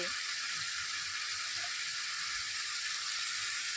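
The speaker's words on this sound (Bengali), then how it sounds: "প্রায় চার থেকে পাঁচ মিনিট ভেজে নিতে হবে" Garlic dish frying in oil in a pan, a steady, even sizzle with soft hiss that runs unbroken throughout, fairly quiet and close, with no talking.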